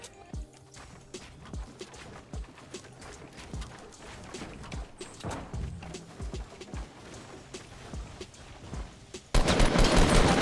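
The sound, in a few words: gunfire in Fortnite video game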